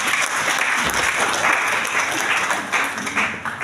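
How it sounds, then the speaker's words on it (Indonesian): A church congregation at a KKR GBI revival service claps for Jesus, with steady, dense applause filling the room throughout and faint voices mixed in. "Tepuk tangan buat Tuhan Yesus."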